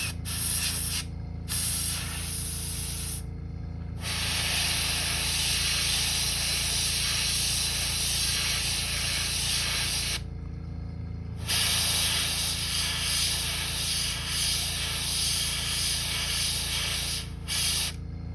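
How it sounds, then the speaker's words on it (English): Steady airbrush hiss spraying ink onto a custom fishing crankbait, continuous and close, broken by a few brief pauses. "So far, this ink seems to be spraying pretty good."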